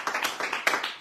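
A burst of lively audience applause, many hands clapping fast and close in a studio setting, bright and steady for a brief moment.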